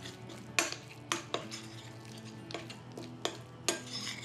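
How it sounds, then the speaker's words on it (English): A spoon knocks and scrapes in a bowl while tart filling is mixed with a pinch of salt; several distinct clinks at uneven intervals over a low background hum, close and fairly quiet. "Mix all of that together, and this is our filling for our tarts."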